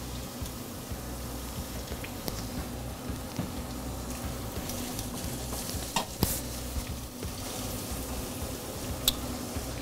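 Food in a pan with salt and a glug of olive oil just added, giving a steady, moderate sizzle with occasional stirring clicks close by and no speech.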